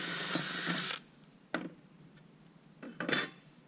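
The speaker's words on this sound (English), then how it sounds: "Drill bit back through this bottom hole." A high whining drill bit grinds through PVC pipe for about a second, then stops; a couple of short bursts and clicks follow against near silence.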